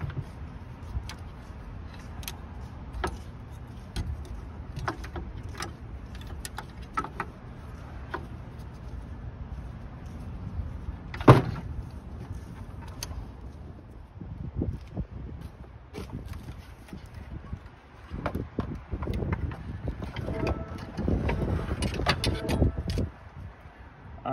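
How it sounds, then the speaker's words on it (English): Metal clanks, scrapes and knocks as the intake plenum is worked loose and lifted out of a 2013 Nissan Murano engine, with scattered ticks, one sharp bang midway and busier rattling near the end. "now this whole plenum should lift its way out of here."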